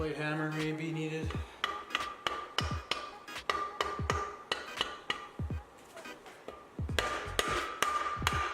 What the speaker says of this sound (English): Light hammer may be needed.